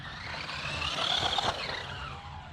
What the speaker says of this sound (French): je descends à fond et je freine à fond